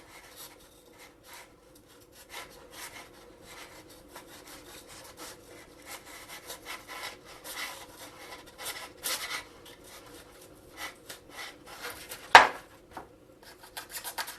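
An X-Acto knife cuts a small slot into the frame of a Thor model glider on a workbench, making close, dry scraping strokes in an uneven rhythm, with one sharper, louder stroke near the end.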